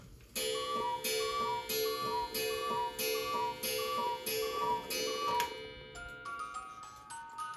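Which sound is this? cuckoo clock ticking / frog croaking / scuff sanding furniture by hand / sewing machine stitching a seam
cuckoo clock ticking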